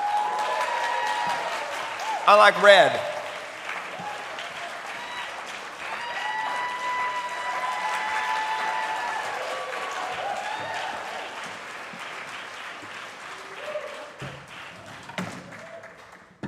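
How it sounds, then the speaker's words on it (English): Audience applause for a string camp performing group at an online concert, steady clapping sustained throughout with a brief louder burst early on and a short spoken phrase over it. "Please give them a round of applause."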